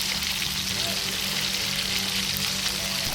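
A pan of poppy seed paste with prawns and water bubbles and sizzles steadily up close under a lid, an even continuous hiss with no talking.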